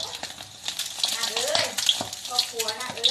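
A fried egg sizzles hard in hot oil over high heat, a close crackling and spattering hiss with a bright steady texture, while someone talks over the cooking.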